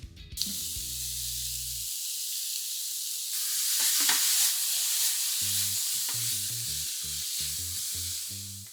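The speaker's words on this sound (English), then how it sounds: "Sear the steak and chorizo for just a couple of minutes on each side" Steak and chorizo searing in a hot pan make a loud, steady sizzle that runs almost unbroken throughout, over faint low background music.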